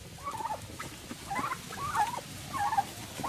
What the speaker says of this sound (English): They're just turkeys.